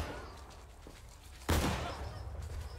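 Musket fire in the Civil War game War of Rights: a loud, close volley cracks about midway, with a rolling tail afterward over a steady background of distant scattered shots.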